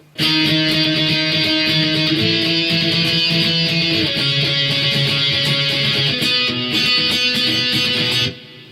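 Guitar playing the intro B section of a song, with sustained chords shifting about every two seconds, steady and loud throughout with no voices.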